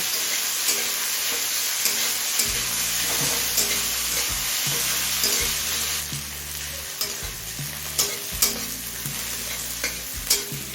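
Two large onions fry and sizzle in a pan for a chicken and jackfruit curry, with steady crackling and repeated scraping stirs throughout, close and moderately loud.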